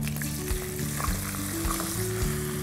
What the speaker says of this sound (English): We're going to roast besan in this ghee.